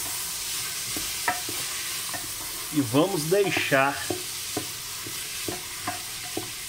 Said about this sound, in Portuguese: a nossa cebola e o nosso alho fritando aqui um pouquinho